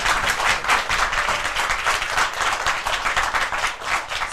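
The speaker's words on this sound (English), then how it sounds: "A round of applause for all your winners." An audience claps steadily and loudly for the winners at a school math championship, a dense, continuous applause with no gaps.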